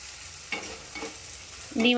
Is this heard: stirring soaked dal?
yes